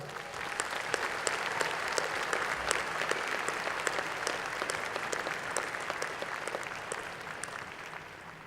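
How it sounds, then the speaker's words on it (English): An audience at a graduate school commencement ceremony applauds the graduates, a dense sustained round of clapping from a large crowd that holds steady, then eases slightly toward the end. "Let's give the graduates one more round of applause."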